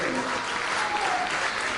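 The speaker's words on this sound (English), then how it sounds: "And again, another round of applause." An audience's round of applause rolls on as a steady, dense wash of many hands clapping, with a voice speaking faintly beneath it.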